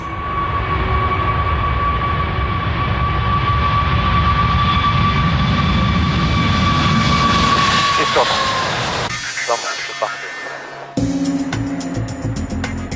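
The engines of an Airbus A380 airliner roar loud and steady with a high whine during a ground takeoff test run, then cut off abruptly, leaving scattered clatter and background noise.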